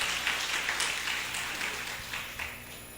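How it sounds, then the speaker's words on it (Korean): Church members give a round of applause, heard as a soft, distant wash of clapping that holds fairly even before easing slightly toward the end. "다시 한번 큰 박수 한번 해주시기 바랍니다"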